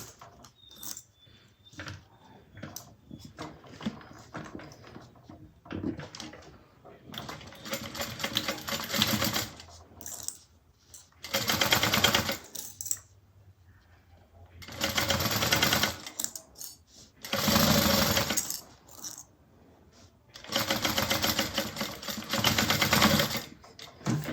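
A sewing machine bastes fabric for a handmade bag, running in several loud, fast bursts of several seconds each, with quieter handling noise between them.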